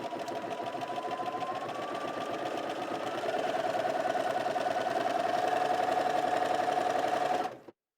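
A Bernina 330 sewing machine stitches steadily with its balance dial twisted fully to one side, a continuous fast mechanical whir and clatter that grows slightly louder midway before stopping abruptly near the end.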